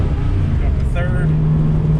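Steady, loud in-cabin drone of a 1965 restomod Ford Mustang pulling in third gear, the engine note holding and firming up after a brief shift-like change, with a person talking over it.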